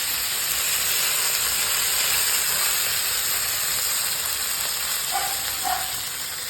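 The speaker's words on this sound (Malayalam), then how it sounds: "കോഴക്ക നമ്മൾ ഫ്രൈ ചെയ്യാണ്" Sliced vegetable frying in hot oil gives a steady, dense hiss that runs without pause, close and fairly loud, with no one speaking over it.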